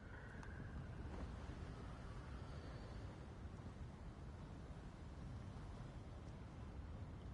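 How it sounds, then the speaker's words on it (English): Wind blowing through an outdoor scene in the Hogwarts Legacy video game, a faint, steady whooshing rush with a low rumble that continues unbroken and alone. "Oh yeah, very windy."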